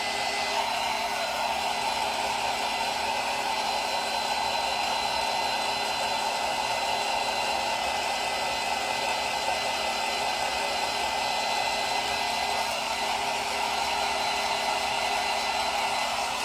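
A hair dryer blows steadily on faux dyed Easter eggs, a constant close whir that runs unbroken with no talking.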